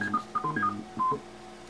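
A Baby Pac-Man arcade machine powers on and plays a short electronic tune of bright beeping tones in quick stepped phrases, alone for under two seconds.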